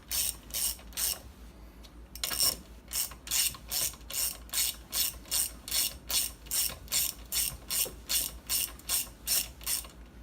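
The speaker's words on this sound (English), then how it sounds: "you go around and you get all your side cover bolts installed" A ratchet tightens the side cover bolts on a Honda GX390 engine in rapid bursts of crisp clicking, close and clear, repeating steadily with brief pauses between strokes.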